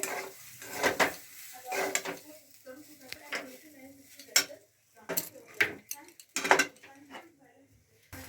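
A spoon stirs a turmeric mixture in a cooking pot on a gas stove, with scraping clinks and knocks against the pot coming in irregular bursts over a quiet kitchen background.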